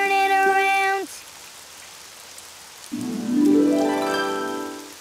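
Steady rain falls outside in a children's cartoon, a soft continuous patter running beneath musical tones and voices.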